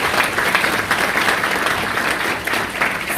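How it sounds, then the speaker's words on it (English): A gala audience at an industry awards ceremony applauds steadily, a dense wash of many hands clapping at even loudness throughout. "Please give them a round of applause."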